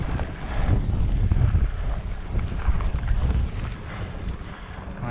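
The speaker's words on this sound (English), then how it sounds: "I wasn't anticipating it being this windy out here today" Strong wind blows across Cedar Mountain, buffeting the microphone in loud, uneven gusts that roar steadily for several seconds with no voices.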